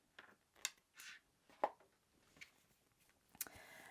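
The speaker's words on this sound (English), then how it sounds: "You can go ahead and snip off." Scissors snip through crochet yarn fibres while finishing a left-handed crochet face mask adapter: a few faint, sharp, isolated clicks spaced over several quiet seconds, close by and soft.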